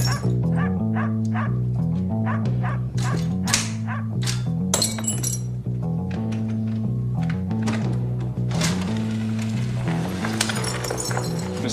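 A dog barks repeatedly behind a house, the loud, steady run of barks filling the yard with no voices over it.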